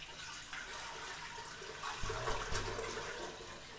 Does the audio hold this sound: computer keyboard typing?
no